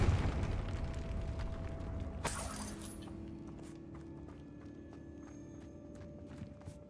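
A Confringo fire spell blasting in the Hogwarts Legacy video game: a sudden bright burst of crackling flame, then fading, followed by scattered light footsteps and clicks over a low ambient hum.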